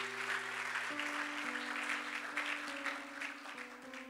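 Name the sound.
congregation applauding the Lord in church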